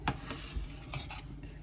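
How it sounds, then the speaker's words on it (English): A spoon stirring red peas soup in a pot, making a few soft, close scrapes and clinks against the pot, faint and with no talk. "And then we just stir it up"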